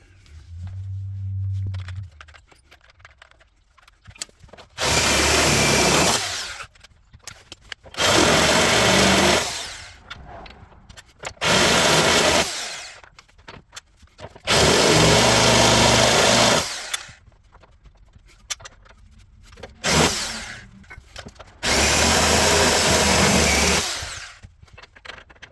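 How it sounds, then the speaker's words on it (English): A step drill bit bores holes for a Ford Raptor front shock conversion in five loud, close bursts of high whining drilling lasting a second or two each, separated by quiet pauses. "So now we're going to try the step bit, see if we can't make these holes just a little bit bigger."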